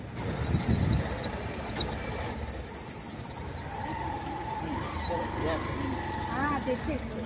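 A train whistle sounds at a railway station with a loud, sustained high blast over rumbling rail noise, then cuts off and leaves quieter rolling train sounds and faint voices in the background.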